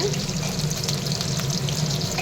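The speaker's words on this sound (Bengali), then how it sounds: "সকালবেলা আমার বাবা দেখো চিকেন পকোড়া করছে" Chicken pakora fry in oil in a home kitchen, a dense continuous bubbling sizzle filling the short span, close and fairly loud, with no clear speech.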